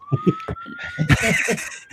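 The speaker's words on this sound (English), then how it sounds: "Of course, there's sirens right now, so that's appropriate." Emergency sirens wail outside with a steady rising tone that swells midway, heard over intermittent talking indoors.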